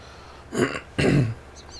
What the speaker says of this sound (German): Entschuldigung fürs Räuspern.